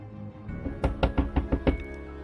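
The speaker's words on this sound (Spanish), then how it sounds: "Al día siguiente, tocaron a la puerta muy fuerte." Six loud knocks on a door land in an even, rapid sequence at close range, with nothing else sounding around them.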